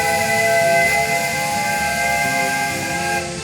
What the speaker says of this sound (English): but it does include an LNER peanut whistle.